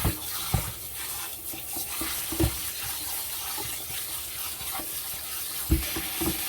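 Cold tap water runs steadily over cooked pork in a kitchen sink to stop the cooking, a close hiss of water with a few sharp splashes and clunks.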